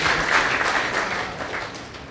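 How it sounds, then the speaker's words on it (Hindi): An audience at a talk bursts into loud applause, dense clapping that slowly thins and fades over about two seconds with no voices over it. "अरे बजाइए तालियां।"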